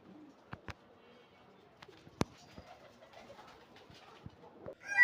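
High flyer tumbler pigeons coo softly and distantly, with scattered faint clicks and taps, in a quiet outdoor setting with no talking.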